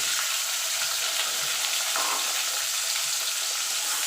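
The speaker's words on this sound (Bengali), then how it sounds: "এবার আলুটা আমি একটু লাল লাল করে ভেজে নেব" Potatoes frying in hot oil in a wok, with dried red chillies and whole cumin already in the pan, giving a steady loud sizzle that carries on without pause.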